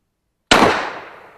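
A Mossberg 590 Shockwave shotgun fires a single Aguila mini shell outdoors at a range: one loud, close blast with a short, fading tail.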